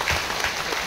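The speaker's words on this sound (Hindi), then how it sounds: "थोड़ा सा ताली मार दीजिए।" An audience claps steadily at a foundation day event, a dense, continuous patter of many hands filling the moment at close range.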